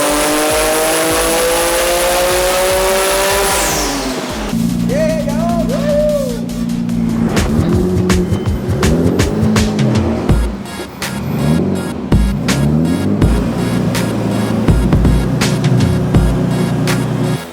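A Nissan R33 GT-R with a 3.4-litre RB engine revs hard on a dyno. It holds a loud sustained high-rpm scream, then drops to choppy, popping revs and repeated throttle blips that carry on throughout.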